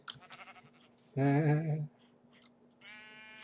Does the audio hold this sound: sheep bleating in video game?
yes